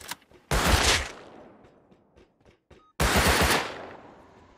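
AK rifle gunfire in the console version of the survival game Rust, two loud, rapid bursts of automatic fire a couple of seconds apart with faint clicks between them.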